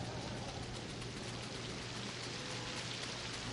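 Steady rain falls across a video game scene, a dense, even hiss of drops with no breaks or talk over it.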